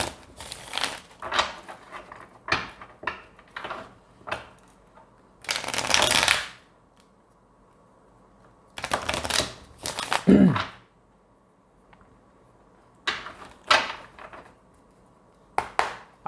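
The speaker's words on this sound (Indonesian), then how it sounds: "Aku shuffle sebentar dengan kartunya sebentar ya." Tarot cards are shuffled by hand in short riffling bursts, a few longer flurries and scattered light taps and flicks between them, close and clear with stretches of near silence.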